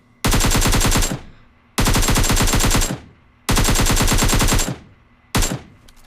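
An AKM assault rifle in PUBG Mobile fires on full auto in four loud, close bursts of rapid shots, each about a second long and separated by short silences, with the last burst cut short.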